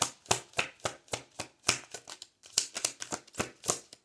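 Rapid bursts of card riffling, a dozen or so crisp flutters in uneven rhythm, close by with no voices.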